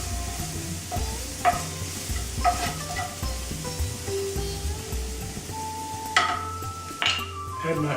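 A beef casserole being stirred in a pot, with a gentle sizzle underneath and repeated clinks and scrapes of a spoon against the pot, close and moderately loud, with a few brief spoken remarks.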